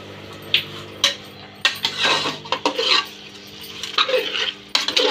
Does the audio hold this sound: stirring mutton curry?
yes